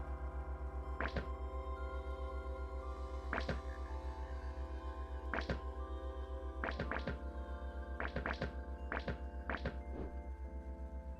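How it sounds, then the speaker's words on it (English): Sharp, clipped gunshot effects from the Caves of Qud video game, single shots then quicker bursts over a constant low electronic hum, no voices. "Who the fuck is shooting at me?"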